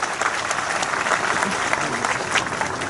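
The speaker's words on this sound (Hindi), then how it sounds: "आप सबसे अनुरोध है जोरदार ताली बजा के आदरणीय मुख्यमंत्री जी के स्वागत करो" A crowd claps loudly and steadily to welcome the chief minister at a public meet-and-greet visit in Thelka, Bemetara, a dense, continuous round of applause.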